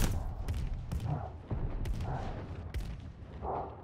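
Repeated grenade blasts in a World War II desert battle in Call of Duty Vanguard, a series of dull booms and thuds roughly every half second over constant rumbling combat noise.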